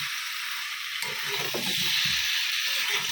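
Gravy with tomato ketchup and a little sugar stirred in a pan, a steady sizzling hiss throughout with soft scraping stirs from the middle on, close and fairly loud.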